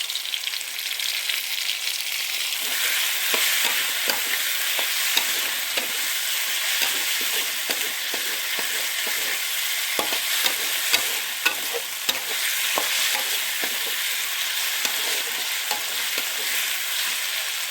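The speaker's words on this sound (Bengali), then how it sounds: "আদা রসুনটা ভাজা হয়ে গেছে, এবার দিয়ে দিচ্ছি টমেটো।" Tomatoes added to fried ginger-garlic paste and onions sizzle steadily in a pan for egg curry, with regular close spatula stirs and scrapes clicking over the hiss and no voices.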